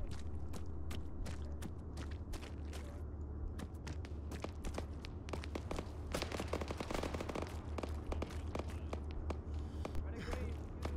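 Gunfire crackles in a jungle combat game set in 1984 Everglades, rapid repeated shots and bursts over a constant low engine-like drone, with brief talk between players.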